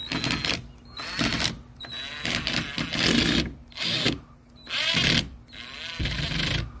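Power drill used while building a boat, whirring in short bursts of about a second each, separated by brief pauses, fairly close and loud, with clicks and handling noise between bursts.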